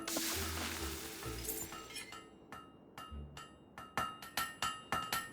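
Metal hammering on a blade at a forge in the video game Fable III: a steady rumble of forge and workshop noise, then a run of sharp ringing clinks, spaced at first and coming faster and louder toward the end.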